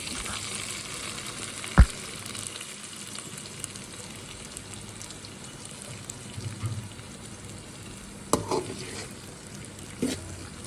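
Okra frying in oil with mustard seeds and cumin, a faint steady sizzle with a few sharp pops and clinks spread across it; no voices.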